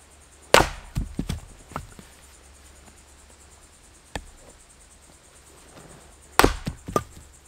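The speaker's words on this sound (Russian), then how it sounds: "звук колки дров один из самых приятных для ушей" Firewood being split with an axe outdoors: a few sharp, loud cracking chops with splintering wood, spaced several seconds apart, over faint background hiss and insect chirping.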